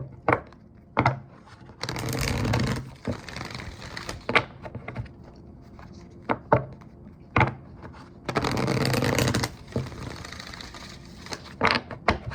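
Oracle cards being shuffled by hand in a quiet room, giving two longer riffling bursts amid scattered soft taps and flicks, close and fairly loud with no talking.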